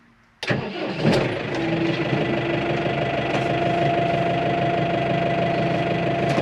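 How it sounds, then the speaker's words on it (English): A cold tractor engine cranks and catches after a brief silence, then settles into a loud, steady, knocking idle that continues unbroken close by. "we'll just wander down the field nice and gently, because engine's cold"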